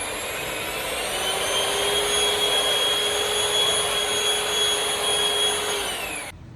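An electric mixer whirs steadily while blending a Dragon Stout ice cream base, a loud even high-pitched hum that holds throughout and spins down at the end, with no speech.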